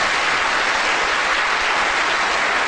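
Dense, continuous audience applause fills a lecture hall, loud and even throughout with no voices breaking through.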